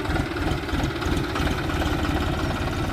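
A tractor engine idles steadily at close range, a low, even rumble with faint knocking pulses that runs without pause and with no voices over it.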